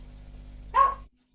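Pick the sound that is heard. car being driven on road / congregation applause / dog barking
dog barking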